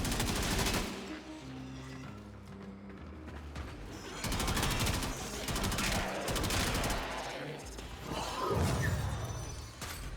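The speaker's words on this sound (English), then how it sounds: "It's not a very powerful gun, but man, it makes a good sniper rifle." Gunfire from a sniper rifle in the video game Warframe cracks out in loud, sharp bursts amid other clattering in-game action, with a few quieter stretches between volleys.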